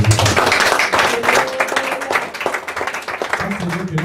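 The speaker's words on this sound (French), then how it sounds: "acclamons très fort pour Jésus" A church congregation at a Sunday service in Paris claps and cheers loudly, dense applause filling the room, with shouting voices mixed in throughout.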